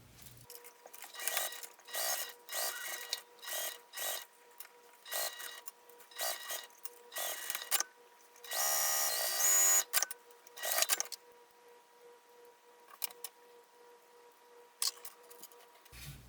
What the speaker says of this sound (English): I'm just going to top stitch down both long edges, and I'll be sewing in a circle